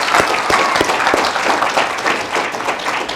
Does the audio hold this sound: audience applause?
yes